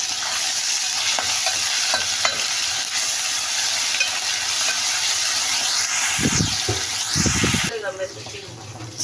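Ginger garlic paste sizzles loudly in hot oil in a pan for mutton, a dense continuous frying hiss with spoon scrapes and stirring, closing with a burst of spattering; someone talks briefly over it.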